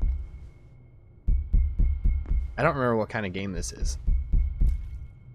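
A low, throbbing heartbeat pulses in a regular thumping rhythm in the horror video game Beyond Hanwell, starting after a second of quiet and continuing beneath a person talking.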